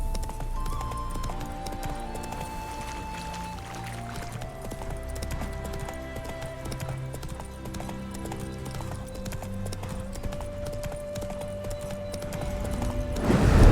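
Roach, a horse in The Witcher 3, clip-clops along steadily under a continuous bed of game music, hooves keeping an even walking rhythm throughout, with a louder swell right at the end.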